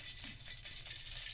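Onion sizzling in a tablespoon of hot oil for kambu (pearl millet) kuzhi paniyaram, a steady close hiss of frying throughout with no voices.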